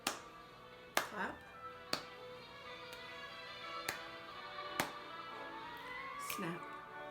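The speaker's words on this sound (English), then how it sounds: "Clap." Hand claps in a children's Sunday school body-percussion song, sharp single claps spaced about a second apart, loud and close, with a voice speaking between and over them.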